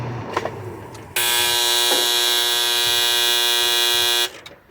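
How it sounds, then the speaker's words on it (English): A washing machine's end-of-cycle buzzer sounds as one loud, steady, harsh tone lasting about three seconds, close by, with faint room noise before and after. "Washing machine's done."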